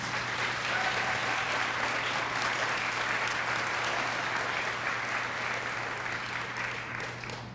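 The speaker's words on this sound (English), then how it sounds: "And yes, that deserves a round of applause." Sustained audience applause at a keynote address, a dense, steady wash of many hands clapping that holds for several seconds and fades slightly at the end, with a low electrical hum beneath.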